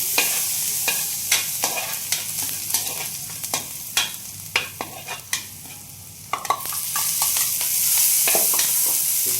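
Garlic stir-frying in oil in a pan for simple fried rice, with a steady sizzle under repeated sharp scrapes and clacks of a spatula against the pan, close and fairly loud, with no talking.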